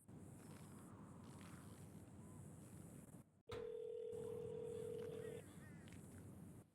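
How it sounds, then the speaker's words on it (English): A phone dial tone in a video game, a steady, loud, pure tone that holds for about two seconds partway through and then cuts off, over a constant background hum. "Can you call Hillinghead and check on him, see if he answers his phone?"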